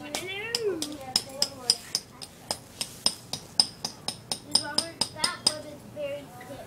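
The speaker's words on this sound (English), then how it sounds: "We're hammering it now." Repeated hammer strikes driving tent stakes outdoors while a tent is being set up, about a dozen sharp metallic knocks in an uneven rhythm, close by, with people talking at times between them.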